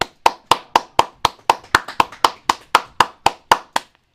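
Hand clapping in a steady even rhythm, about four sharp, close claps per second, repeated sixteen times with no talk over them.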